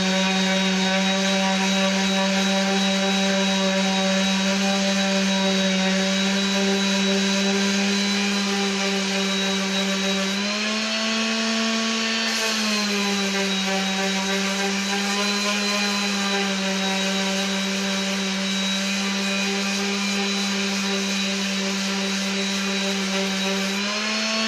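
A power sander running steadily on wood fitted with 60 grit sandpaper, a loud continuous motor whine that dips in pitch briefly midway as it loads up, then recovers.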